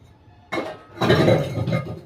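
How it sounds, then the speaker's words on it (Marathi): Dishes being washed and scrubbed at home, with clinking plates and utensils that start abruptly and carry on in a steady, fairly loud clatter. "भांडी घासली"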